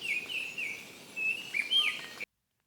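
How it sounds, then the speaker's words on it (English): A Baltimore Oriole sings the ending of its Type 3 song, a series of clear, whistled notes with a few quick slurred chirps over faint background hiss, cutting off abruptly. "here was a bird systematically skipping the first two notes of the Type 3 song and just singing the end."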